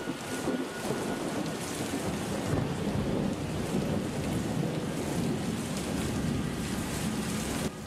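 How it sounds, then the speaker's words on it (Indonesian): Heavy rain pours down in a steady, dense hiss with deep thunder rumbling underneath, loud and unbroken throughout, with no voices. "Pada saat itu tiba-tiba hujan ini turun dengan derasnya."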